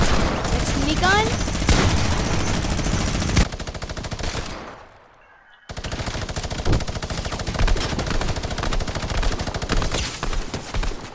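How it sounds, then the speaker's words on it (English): A minigun in Fortnite roars in a dense, continuous burst of rapid fire, breaks off for a moment into near silence, then spins up and hammers away again just as loudly. "Minigun is overpowered."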